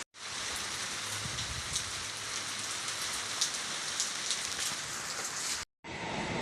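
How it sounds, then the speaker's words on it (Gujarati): Rain pours down steadily on a road on the way to a lime orchard, a dense, even hiss of drops on surfaces that cuts out briefly near the end before resuming. "વરસાદ થઈ ગયો તો આમ ધોકારાય ચાલુ રસ્તામાં"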